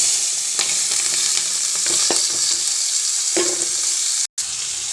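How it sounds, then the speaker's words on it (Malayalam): Chopped raw papaya goes into hot oil with mustard seeds and salt, giving a loud, continuous sizzling hiss with occasional spatters and stirring scrapes, close to the pan, with a brief dropout near the end. "കടുകിട്ട് എണ്ണയിൽ തന്നെ സ്വല്പം ഉപ്പിടുകയാണ് അതിനകത്ത് തന്നെ ഉപ്പിട്ടു ഇനി അരിഞ്ഞു വെച്ച സാധനങ്ങൾ ഇടുകയാണ്"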